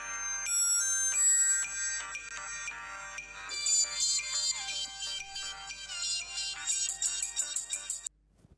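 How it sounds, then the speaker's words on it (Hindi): A telephone ringtone plays a bright electronic melody of quick repeated notes for several seconds in a Pakistani television drama, loud and close, then cuts off abruptly, with no voices over it. "फरीद साहब, कैसे फ़ोन किया?"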